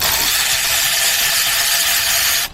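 An 8mm magnetic socket backs a screw out on a Mercedes OM642 diesel Sprinter van, a steady, loud, close, hissing whir of the tool running for a couple of seconds before cutting off abruptly.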